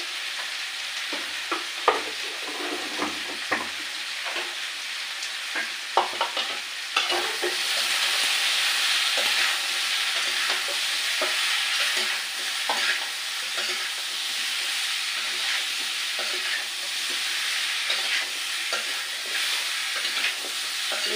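Turmeric and chili powder fry in hot oil in a pan with a steady close sizzle, while a spoon stirs and scrapes throughout; the sizzle grows louder and denser midway, and no one speaks.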